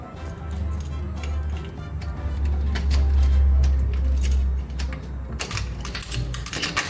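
A hotel room key in South Beach, Miami jangles and clicks in bursts of small metallic rattles over a low steady hum, loudest toward the end.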